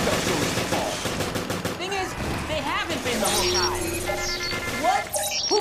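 Rapid gunfire bursts from Resident Evil: Revelations ring out loud and close, mixed with game effects and a voice talking over the action.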